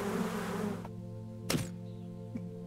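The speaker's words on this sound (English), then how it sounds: "I have to admit that the bee sounds is making my ears itch." Insect-like buzzing of bees in a hidden object video game, a dense steady hum with tonal layers that thins out partway, followed by a couple of soft thunks.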